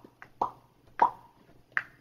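A voice imitates the pop of a computer heat sink snapping into place, giving three or four short, close mouth pops spaced irregularly, each with a quick bright attack and brief ring.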